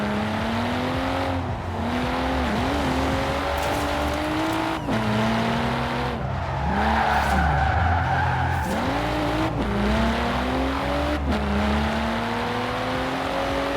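A Volvo S60-style car in GTA IV lets out a steady, loud engine drone that rises and falls in pitch as it revs, with repeated tire skids and squeals layered over it and no talking.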